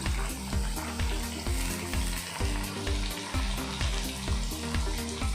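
Chicken pieces fry in a pan for biryani with a dense, continuous crackling sizzle, close and loud, broken by recurring soft knocks and scrapes of stirring, with no one talking.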